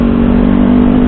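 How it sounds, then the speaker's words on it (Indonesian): A Kawasaki Ninja 250 motorcycle engine idles loud and close, a steady smooth drone with a constant low hum. "Jadi ini suara mesin saya suara mesin lebih halus"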